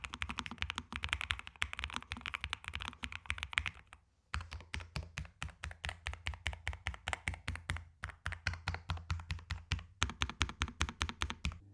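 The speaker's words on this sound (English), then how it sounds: "it also is one of the top tier sounding keyboards on this list" Brisk typing on a clear-cased, 8-bit retro-style mechanical Mac keyboard with low-profile keys, close and loud, with rapid clacky keystrokes in bursts, one short pause near the middle, then steady rhythmic typing with no talk.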